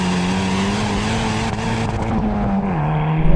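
Hyundai i30 N hot hatch engine pulling hard under acceleration, a loud, steady drone that holds its pitch and dips briefly near the end as if shifting gear, with no talking over it.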